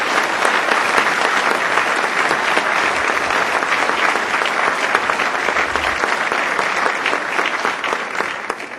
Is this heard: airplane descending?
no